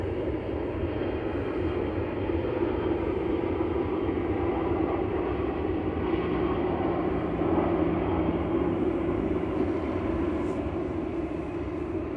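Airbus A320-200 jet at Manchester Airport, producing a steady, continuous broadband roar that holds at an even level throughout, with no voices.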